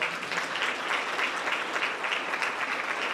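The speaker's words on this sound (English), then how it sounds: "give yourself a round of applause" Students at a grades 4–6 school awards ceremony applaud themselves, a steady wash of many hands clapping at moderate distance, even and continuous for the whole stretch with no voices standing out.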